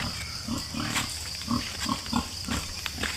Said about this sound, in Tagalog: So may baboy kami dito guys.